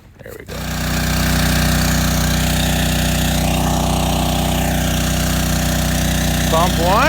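An engine-driven water pump runs loud and close with a steady, droning hum that starts up at the outset and holds evenly throughout, with a brief higher rattle near the end.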